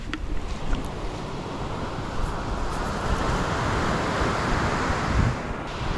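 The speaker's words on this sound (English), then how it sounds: "Big waves coming." Big sea waves break on a shore in Gargano National Park, Italy, a loud, steady roar of surf and rushing water with wind buffeting the microphone, and no talking.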